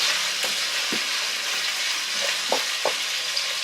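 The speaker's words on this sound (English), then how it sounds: "Give the chorizo a toss." Chorizo and shrimp fry loudly in a paella pan, a steady close sizzle broken by a few soft scraping tosses of the food.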